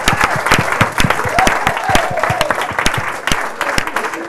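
An audience applauds young local council members at a local democracy event: loud, sustained clapping with distinct, sharp individual claps and a light crowd murmur underneath.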